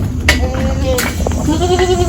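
Goats bleat in several short, wavering calls, heard close over steady background noise.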